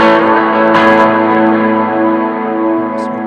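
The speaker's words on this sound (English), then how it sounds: "I'll put on my other reverb as always on." An electric guitar chord is played through a Mooer A7 Ambiance reverb pedal and rings out loud and sustained, a rich, distorted tone that slowly decays with a spacious reverb tail.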